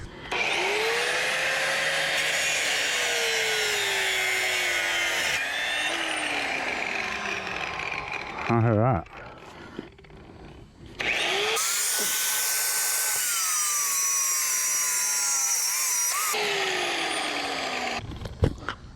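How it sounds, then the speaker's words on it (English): A loud power tool whines and roars as it cuts through part of a jet ski trailer, its pitch shifting under load, pausing briefly midway with a short spoken remark before revving again. "I got a power tool in my hand, so we're just gonna take care of this real quick."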